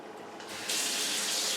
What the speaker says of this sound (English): I'm going to give it a little rinse